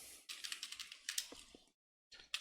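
Quick bursts of typing on a computer keyboard while writing CSS code, with close, light key clicks in a steady run, a short pause, and then a few more keystrokes.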